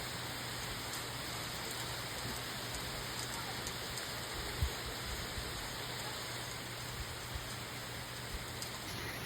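Steady rain falls outside a porch as a constant hiss of drops on surfaces, even and moderately loud throughout, with an occasional louder drip.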